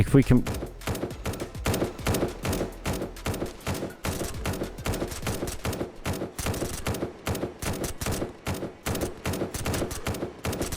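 Automated turrets in the Surroundead video game fire in rapid, sustained bursts, a dense rattle of shots that runs nonstop and loud for the whole stretch, with a player's voice briefly underneath.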